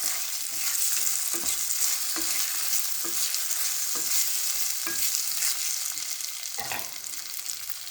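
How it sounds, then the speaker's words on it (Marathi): Ground rice roasting in a pan for kheer, stirred steadily with a spoon: a continuous dry sizzle with repeated scraping strokes at a regular rhythm, close and fairly loud, with no voices. "नंतर त्यामध्ये बारीक केलेले तांदूळ घालू तांदूळ दोन मिनटे छान भाजून घेऊ"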